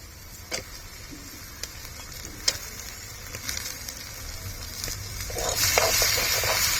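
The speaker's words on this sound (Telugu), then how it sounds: "ఇప్పుడు మనం చికెన్ పీస్లు వేసేసుకుంటున్నాం." Chicken pieces hit a pan over a wood fire and fry with a steady, close sizzle and soft crackle, scattered pops through the middle and a louder surge of frying toward the end.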